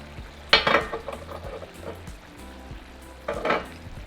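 Seasonings mixed into chicken in a hot pan for a taco salad bowl, with a low sizzle and two bursts of scraping, clattering stirring against the pan.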